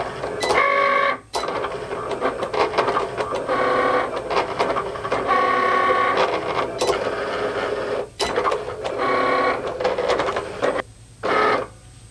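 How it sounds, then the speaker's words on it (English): A Cricut cutting machine cuts puff heat transfer vinyl, its motors whirring in steady pulsing runs with brief pauses and clicks as the carriage moves, loud and close throughout. "I'm going to load my mat into my Cricut machine. Then we'll just press the go button to cut."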